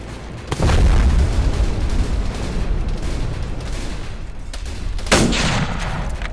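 Explosions and gunfire in the Arma 3 video game, set in a Vietnam-era battle: a sudden loud boom near the start, then sustained rumbling gunfire and blasts, with another sharp explosion near the end.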